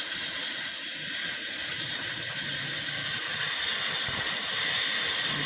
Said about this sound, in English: we are just getting the metal red hot and just touching the wire and it starts welding